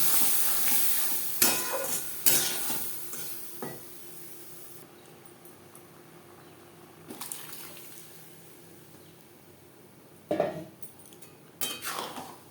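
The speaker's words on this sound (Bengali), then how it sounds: "ফোড়নের সাথে ডাল ও চিচিঙ্গা বেশ ভালো করে মিক্সড করে দেব।" Boiled masoor dal and snake gourd stirred into a tempering of fried onion in a pan, with a steady low sizzle beneath occasional metal spoon clanks against the pan, close by and without speech.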